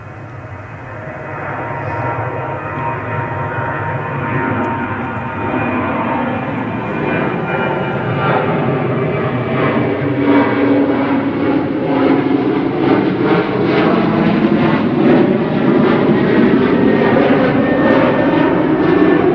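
Ryanair jet airliner bound for Madrid at Manchester Airport, engines roaring steadily and swelling louder with a whining tone as it departs, close and continuous for nearly twenty seconds.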